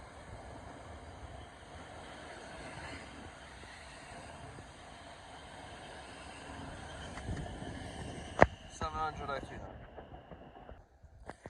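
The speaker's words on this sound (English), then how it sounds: "here we have the 1306 Thameslink service from Rainham to Gravesend. 700/042." A Class 700 Thameslink train passes at Gillingham, a low rolling rumble that builds toward the end with sharp clanks and wheel squeals, then fades away quickly.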